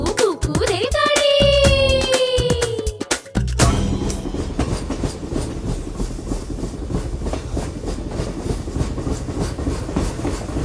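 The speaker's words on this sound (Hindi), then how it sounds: "पटरी पे चलती रेलगाड़ी" In a children's animated song, a bright whistle-like tone sounds first, then gives way to the continuous rattling clatter of a train rolling along the tracks.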